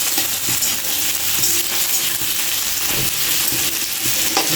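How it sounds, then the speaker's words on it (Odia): Onions fry in hot oil in a pan, making a dense, steady crackling sizzle that stays loud and close from start to finish, with a few faint clinks underneath. "ପିଆଜ ଆମର ତେଲରେ ପଡ଼ିଗଲା। ଭଜା ଚାଲିଛି।"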